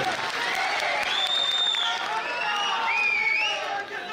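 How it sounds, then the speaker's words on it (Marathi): Crowd clapping at a Shiv Sena party workers' rally in Satara, a steady wash of applause with whistles and cheers rising over it and a voice faintly audible beneath. "जोरदार टाळी त्याच्यासाठी।"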